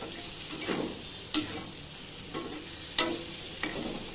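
Prawns cooking in a pan with spices and salt give off a soft, steady sizzle. The spoon scrapes and taps against the pan about once a second, with a couple of sharper clicks mixed in.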